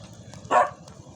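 A dog on a lakeside outing at Laguna de Bay lets out one sharp, angry bark midway through, standing out loudly over a low, steady background rumble.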